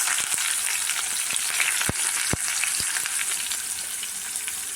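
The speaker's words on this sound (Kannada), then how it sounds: "ಚೆನ್ನಾಗಿ ಫ್ರೈ ಮಾಡೋಣ" Onion, garlic, green chili and curry leaves fry in a hot pan, giving a continuous loud, close crackling sizzle broken by a few sharp pops or stirring clicks.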